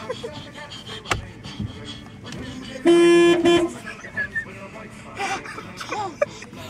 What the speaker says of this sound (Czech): Tak Elinka právě zatroubila.